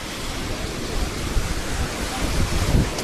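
Waves wash onto a beach with wind buffeting the microphone, a steady broadband roar with a few louder surges toward the end and no talking.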